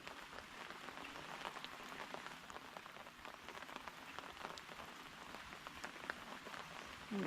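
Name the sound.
heavy rain falling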